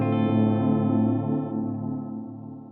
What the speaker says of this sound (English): There's that waver in the echoes, right?